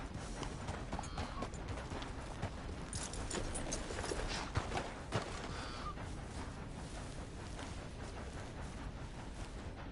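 A horse in a PS4 video game clip-clops along with a steady, quick rhythm of hoofbeats. The hooves sound fairly close, over a soft ambient background with no talk.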